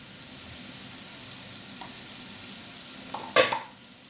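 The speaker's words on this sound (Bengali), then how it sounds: "এখন পোস্তটা একটু নাড়বো" Poppy seeds frying with ridge gourd in a pan, a soft, steady sizzle with a few light stirring scrapes and one sharp clink of a spatula near the end.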